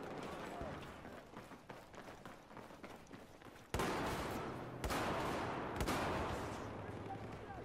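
Airburst weapon explosions and gunfire in the video game Battlefield 4, with a rapid crackle of shots followed by three sharp, loud bursts over continuous battle noise.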